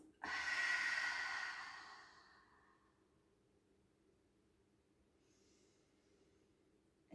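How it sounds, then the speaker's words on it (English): A single long breath pushed out through the mouth, loud and breathy at first and fading over about two seconds into quiet room tone, with a faint soft rustle near the end. "Exhale through the mouth."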